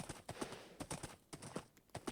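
A horse's hooves clip-clop in an uneven, quick rhythm in a modded Minecraft survival game, fairly faint and close, with no talk over them.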